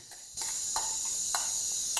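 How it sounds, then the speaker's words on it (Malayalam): Cicadas at midday keep up a steady, high, shrill buzz that swells louder partway through, with a few brief sharper pulses on top of the drone. "നട്ടുച്ചയ്ക്ക് ചീവീട് കാർന്ന കേട്ടോ"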